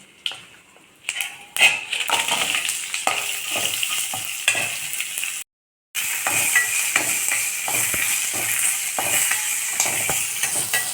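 Shallots and onions fry in a pan for mint chutney, a steady close sizzle with repeated scraping and stirring against the pan, loud and continuous apart from a brief cut to silence partway through.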